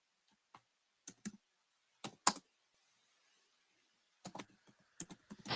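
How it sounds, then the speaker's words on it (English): Computer keyboard keys are typed in short, irregular bursts of crisp clicks, with a quiet pause in the middle. The typing is close and moderately loud, and no one speaks. "I'm typing these in as we go, guys."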